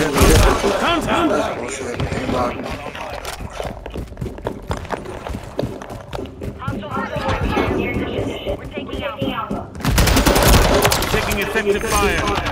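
Heavy Call of Duty video game gunfire: rapid, machine-gun-like bursts and shots crackle continuously, mixed with busy battlefield noise and voices.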